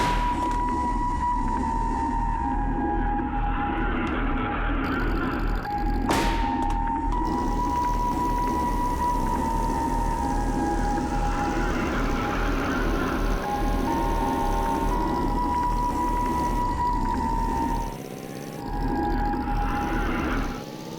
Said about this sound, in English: the notorious Gmod Darkroom. It has a custom little sound effect that plays when you go in it